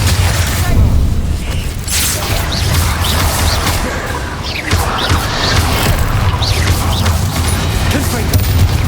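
Spell explosions from Bombarda and Confringo in the video game Hogwarts Legacy, a dense run of loud booming blasts and crashes over a continuous rumbling battle bed, with a voice calling out spell names.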